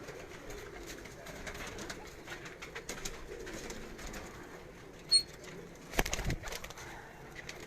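Pigeons at a loft coo faintly and steadily, with a brief burst of wing flapping standing out over the quiet background.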